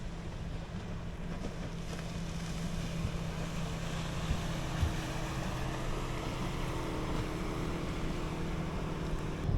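A boat engine drones steadily over rushing water and wind noise as the boat speeds across the Alappuzha backwaters, continuous and fairly close for the whole stretch.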